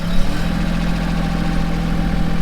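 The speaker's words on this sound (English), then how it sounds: "you may not be able to hear me too well with the noise of the tractor" A Mahindra tractor engine idles steadily in neutral, a loud, close, continuous diesel rumble with an even throb and no voices over it.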